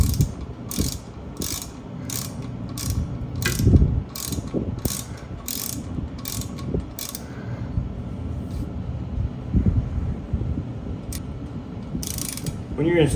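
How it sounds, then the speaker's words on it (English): A torque wrench ratchets in rapid bursts of sharp clicks while tightening rotor bolts during a wheel bearing install, with brief pauses between runs and handling noise underneath. "You want to set your torque wrench anywhere between 35 and 40 pounds per rear torque"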